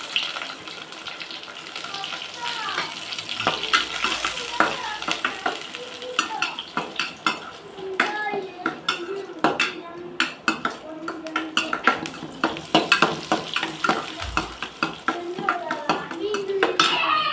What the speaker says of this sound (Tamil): வெங்காயத்தை போட்டுக்கலாம் கருவேப்பிலை கொடுக்கலாம்